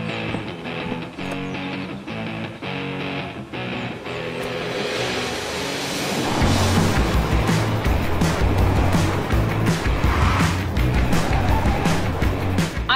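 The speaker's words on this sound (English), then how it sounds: "take this all-new Honda Civic out for a spin around this beautiful" A 2022 Honda Civic e:HEV hybrid with a 2-litre direct-injection engine roars steadily on a race track, building in loudness partway through as it drives hard, with a low rumbling drone and road noise throughout.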